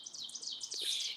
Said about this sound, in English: I don't know what bird that is, but it sounds like a friggin'. It's weird. It's really strange sounding. It sounds like it's meowing almost.